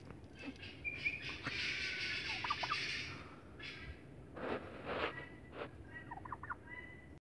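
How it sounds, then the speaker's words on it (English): Turkeys on a farm gobble and call at moderate distance, several rattling bursts over a steady low background, with softer chirps between, no voices. "the turkeys are feeling adventurous tonight"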